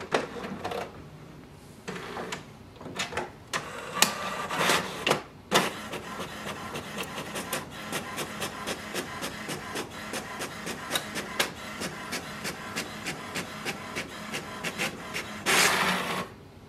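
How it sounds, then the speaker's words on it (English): An HP Smart Tank 7305 printer feeds and prints a confirmation page, with a steady rapid mechanical chatter of the print head moving back and forth at close range, bracketed by louder paper-feed whirs. "Here we can print the confirmation page."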